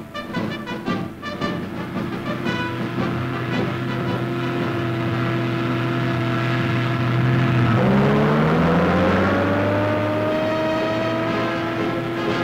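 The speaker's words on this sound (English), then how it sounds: "Riding in an American scout car, accompanied by Lieutenant General Clark, the King reviews one of the modern mechanized armies" An American military scout car driving during a wartime army review, a steady loud engine drone with mechanical whine that shifts pitch partway through, alone with no voices, archival newsreel quality.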